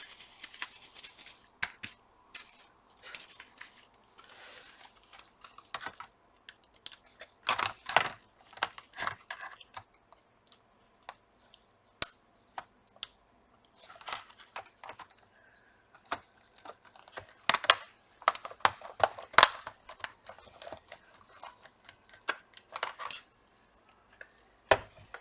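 The keyboard of a Lenovo V570 laptop is fitted back into place: irregular plastic clicks, snaps and rustling taps, close and intermittent, with quiet gaps between.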